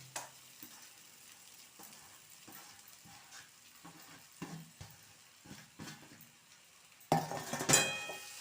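Crumbled moong dal usili being stirred into a frying pan for Iyengar-style kara puttu: soft scraping and light sizzling throughout, ending in a louder burst of clinking and frying as it is mixed.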